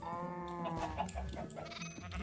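Sheep bleating in the Minecraft video game on a Sky Block island, several wavering bleats close and loud, overlapping one another with no talk.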